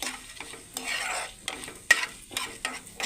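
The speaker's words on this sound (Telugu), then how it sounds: "ఎండుమిర్చి కూడా ఇందులో ఫ్రై అయ్యేదాకా ఫ్రై చేసుకోవాలండి" Dried red chillies fry with coriander seeds and cumin in a dry pan, a soft crackle under rhythmic scraping strokes of a spatula, close and distinct, with one sharp knock midway.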